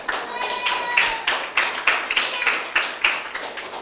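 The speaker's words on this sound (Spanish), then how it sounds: "Aplauso para el Señor." Church congregation clapping during a Spanish-language sermon, a steady run of sharp, evenly spaced claps in a fairly quick rhythm, moderately loud with some voices faintly mixed in.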